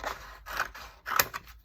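Scissors snip through a paper page of a Wellness Happy Planner, several crisp cuts close by and fairly quiet, with short pauses between the strokes.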